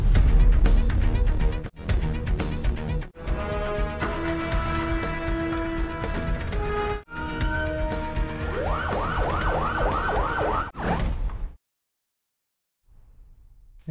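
An ambulance siren from the Indian film Don wails over several seconds in repeated rising-falling sweeps, loud and close, broken by a few abrupt cuts before falling silent, then a faint low sound returns.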